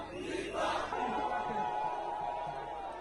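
A crowd at a political rally with politician Constant Mutamba shouts and chants together in a sustained, fairly loud roar, with a swelling cry near the start.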